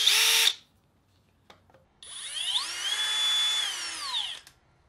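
A cordless power drill with an adjustable speed trigger runs twice. First comes a short, loud whirring burst, then after a pause a longer run whose whine climbs in pitch as the trigger is squeezed, holds steady, then winds down.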